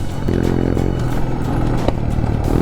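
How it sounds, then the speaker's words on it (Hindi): Royal Enfield Himalayan adventure motorcycle on the road between Pokhara and Kathmandu, its engine and exhaust giving a loud, continuous throbbing rumble close by, with rising pitch in stretches and no voices over it. "भाई क्या आवाज आ रही है हिमालयन से।"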